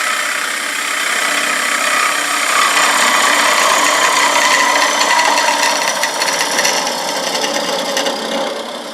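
A woodturning lathe spins a Bradford pear bowl while a gouge rides the bevel and cuts, producing a steady loud hissing, scraping shear with a faint motor hum underneath, continuous and close.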